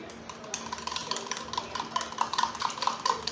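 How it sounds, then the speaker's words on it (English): Spoon stirring warm milk, sugar and yeast in a bowl, with steady light scraping and repeated small clinks against the side, close and moderately loud. "take your yeast and add that to it and give that a good stir"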